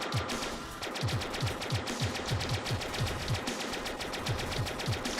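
Rapid machine gun fire from piercing guns in the space video game Stellar Interface, a loud, dense stream of rhythmic shots with regular thumping bursts and no talk over it.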